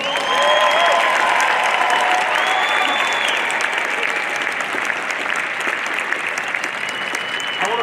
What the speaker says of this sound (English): can we please get another huge round of applause for the outstanding